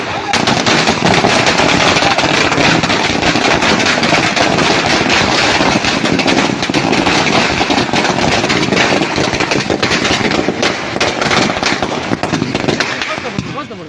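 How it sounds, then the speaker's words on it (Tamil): Dense, continuous crackling bursts of firecrackers popping rapidly for the whole stretch, loud and close, with voices faintly mixed in. "ஒரு சிலர் பட்டாசு கொளுத்தி கொண்டாடும் வீடியோ பரவி"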